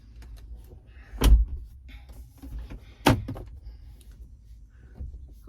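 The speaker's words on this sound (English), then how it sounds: "Open the window. Open the door." Inside a car, a car door is opened, giving two distinct heavy thunks about two seconds apart over a quiet cabin background.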